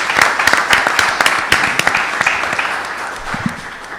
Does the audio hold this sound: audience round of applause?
yes